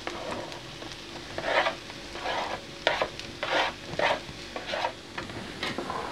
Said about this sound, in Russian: Пока лук с морковкой обжариваются